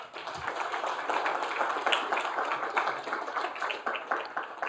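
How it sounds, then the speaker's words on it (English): Audience applause at a regional final startup pitch competition in New York, a dense, steady patter of many hands clapping that carries on throughout without talking. "Give a quick round of applause for them."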